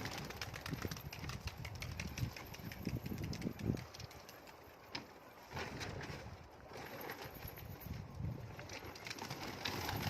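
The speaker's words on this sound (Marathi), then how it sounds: "आपण आता कबूतर तुम्हाला उडून दाखवतो" Pigeons in a rooftop loft flap and stir, faint soft fluttering bursts and rustles over a breezy outdoor background, with no talk.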